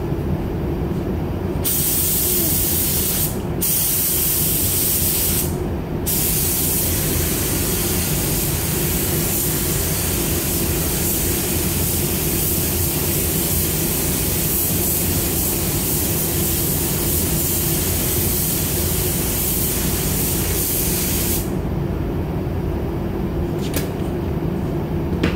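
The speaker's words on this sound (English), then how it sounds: "We're gonna give it an effect coat now." Spray gun laying down a coat of water-based metallic car paint in a humid spray booth, a loud steady hiss that runs continuously from start to finish with no pauses.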